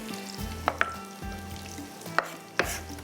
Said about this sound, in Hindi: हम इसको इस तरह से प्याज को ब्राउन करेंगे